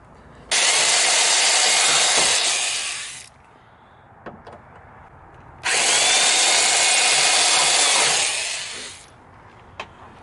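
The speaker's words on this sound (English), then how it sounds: "now we're just going to drill them out" Two sustained bursts of a power drill boring through an old Ford car door panel, each lasting about three seconds, separated by a pause with faint clicks and handling sounds.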